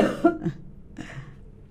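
A person coughs twice, briefly and close, the second softer and followed by a short throaty exhale.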